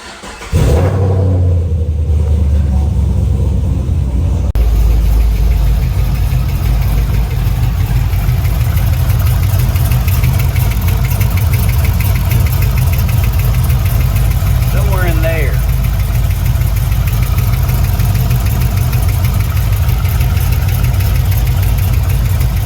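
A 2010 Chevrolet Camaro SS LS V8 with a failed rocker arm starts up and runs continuously, a loud, close, steady rumbling idle with a brief rev partway through.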